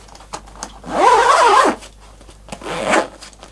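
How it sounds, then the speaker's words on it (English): A Mono M80 guitar sleeve gig bag being zipped up, two close, distinct zipper pulls: a longer rasping one followed after a pause by a shorter one, with light handling rustle between. "let's zip it up and see how it feels"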